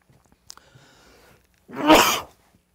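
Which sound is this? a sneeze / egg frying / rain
a sneeze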